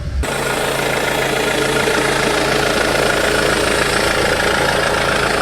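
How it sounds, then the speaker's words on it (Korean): A Mercedes-Benz C220 CDI diesel engine idles steadily, a loud constant rumble with a low clattering hum that continues unbroken throughout. "지금 시동 걸었고요 뭐 역시 경유 연료를 사용하다 보니까 엔진 소음은 좀 있지만"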